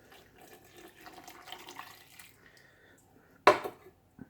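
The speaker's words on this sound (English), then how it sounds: "I've got some hot water here. And let's pour it in." Hot water is poured into a mold used for shaping heat-moldable polymorph plastic. Faint trickling comes first, then a sudden louder splash and gush near the end, with no talking.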